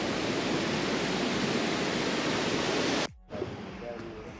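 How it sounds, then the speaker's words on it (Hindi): A steady, loud rush of mountain stream water pouring over rocks in North Sikkim fills the air, then cuts off abruptly to a quieter, softer wash of water. "यहाँ से पत्थरों पे पानी गिरता है"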